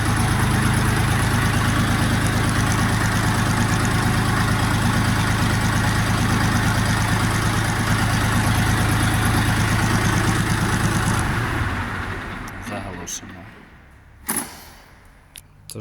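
A Dongfeng DF-244 G2 mini tractor engine idles steadily with a low, even rumble for several seconds, then shuts off, leaving quiet with a few faint knocks.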